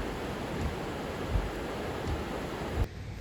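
Creek water flowing out beneath the Surprise Lake Dam in bad weather, a steady broadband rushing wash, moderately faint and even, with no voices.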